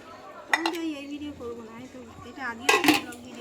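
A lid clanks onto a cooking pot and the pot is shifted level on an earthen stove, producing two clusters of sharp metallic clinks while a voice talks throughout.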